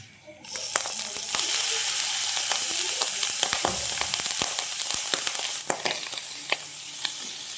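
Ground meat frying in a hot pan for a Filipino sautéed chayote dish, a steady loud sizzle with crackles and occasional stirring scrapes throughout.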